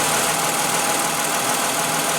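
A 2015 Toyota Highlander's 3.5-liter V6 idles steadily under the hood, a close, even engine hum and hiss that holds without change and has no talk over it.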